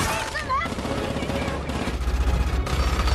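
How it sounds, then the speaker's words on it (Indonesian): Action-movie gunfire from a shootout with a helicopter, heard as a rapid rattle of shots under a dense, busy soundtrack, with a voice narrating over it. "Di waktu yang sama, Hobbs datang sambil menembaki helikopter Jakande secara membabi buta"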